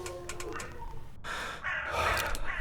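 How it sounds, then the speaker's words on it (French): Seagull cries in the horror survival game We Harvest Shadows: a few faint, distant squawks against a low ambient backdrop, followed by a brief breathy gasp-like rush of noise. "notre perso qui s'inquiète parce qu'il y a des bruits de mouettes"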